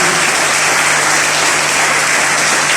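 A church congregation at a World Day of Prayer service for Nigerian women rises in sustained applause and acclamation, a dense, loud, continuous wash of clapping and voices.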